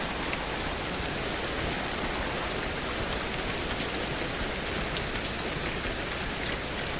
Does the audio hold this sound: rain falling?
yes